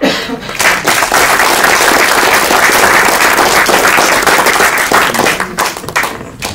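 Loud, dense audience applause at a public lecture during an open-university event, a sustained wash of many hands clapping that swells quickly and fades out near the end.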